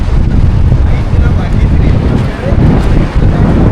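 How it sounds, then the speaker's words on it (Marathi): Strong wind blows at the seashore at Ganpatipule, a loud, continuous roar buffeting the microphone close up with a brief dip near the end. "वारा पण जाम सुटला आहे"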